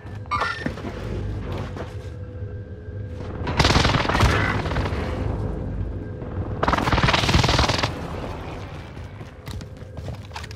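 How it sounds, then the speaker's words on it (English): An enemy precision airstrike hits in Call of Duty: Modern Warfare, two heavy rumbling blasts a few seconds apart, each swelling and fading over about four seconds above a low steady background drone. "Enemy precision airstrike."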